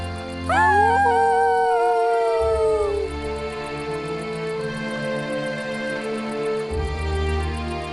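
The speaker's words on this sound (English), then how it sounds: "He and Spot looked up at the stars and howled together." Arlo the dinosaur and Spot the boy from The Good Dinosaur app howl together under the stars, a loud rising howl with wavering sliding tones lasting a few seconds over a sustained musical backdrop.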